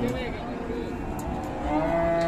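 Cattle low at Pasar Wage, a livestock market in Pati, with a continuous deep mooing layered in dense crowd noise throughout.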